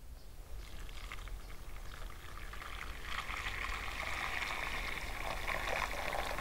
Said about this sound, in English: Our onions are nice and soft now, so I'm going to pour the stock in.